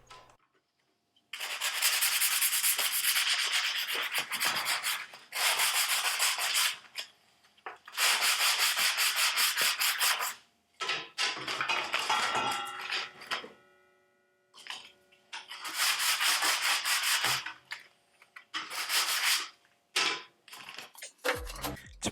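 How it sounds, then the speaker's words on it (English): A sanding block rubs over plywood to clear tear-out in long, loud scratchy back-and-forth strokes. The bursts come in several runs separated by short pauses, close up and with no talking. "Taking off the few bits of tear out that missed the tape with a sanding block."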